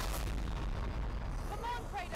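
A bomb goes off in God of War Ragnarok: a heavy, booming blast rolls through dense combat noise, with a voice talking over the din.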